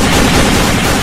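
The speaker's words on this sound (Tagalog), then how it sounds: "Alright, putukan. Yan ang putukan." Loud, dense gunfire burst filling the whole moment, sharp cracks packed tightly together like a rapid volley, close and continuous without any voices.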